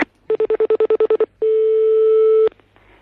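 Telephone keypad dialing: a quick run of about nine evenly spaced DTMF beeps, then a single long steady tone lasting about a second, loud and clean with no voices.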